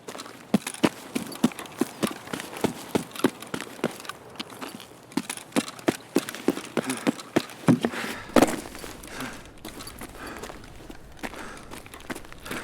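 Footsteps in a video game raid: a steady run of crisp, evenly spaced steps, fairly close and clear over a low background, continuing with a few louder hits near the end.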